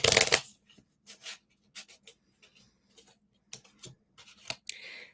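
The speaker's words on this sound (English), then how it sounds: "I'm shuffling for you." Tarot cards shuffled up close: an opening burst of riffling followed by a series of short, separate shuffles and taps, with quiet gaps between them and no one talking.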